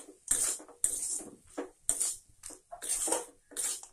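A spoon scrapes and clatters against a pan as vegetable samosa filling mixed with fried peanuts is stirred, in short, sharp, regular strokes close by with brief pauses between them.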